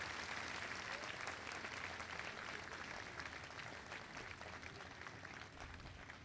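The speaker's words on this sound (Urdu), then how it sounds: "ہم زوردار تالیاں بجا کر انہیں وش کریں گے ہیپی برتھ ڈے۔" A church congregation claps loudly at a Marian shrine, steady dense applause from many hands that carries on for the whole six seconds without a break, the rattle of clapping filling the space.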